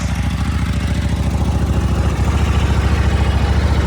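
A 2009 Buell 1125R motorcycle engine idles steadily while warming up, a close, low, even pulsing rumble with no revving and no talking.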